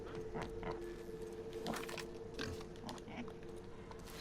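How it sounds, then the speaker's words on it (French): A deformed pig in the video game The Outer Worlds grunts and oinks in short, wet bursts, fairly faint over a steady background hum. "C'est quoi ce cochon? Il est tout déformé."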